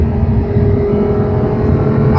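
A car accelerating on the Monticello race track, its engine a loud, steady close drone with no break, heard alone.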